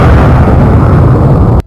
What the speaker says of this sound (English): When these waves reached the ground, people heard a very loud explosion-like sound.